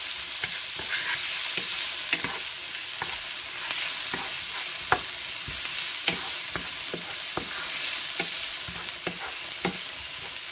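Garlic and onions sautéing in a pan, giving a dense, steady frying hiss with regular spatula scrapes and knocks against the metal, close and even in loudness throughout.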